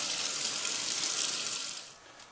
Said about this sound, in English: Wash your hands before you start your procedure using soap and water.